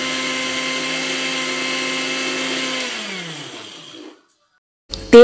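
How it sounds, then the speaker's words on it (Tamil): A mixer grinder whirs steadily while grinding coconut and cashews into a fine paste for chicken salna, its motor pitch sagging as it winds down to silence, followed by a short clatter at the end. "தேங்காவை நல்லா ஃபைன் பேஸ்ட்டாக அரைச்சாச்சு"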